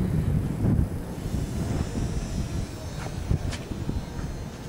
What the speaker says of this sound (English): So windy though, they blow away fast.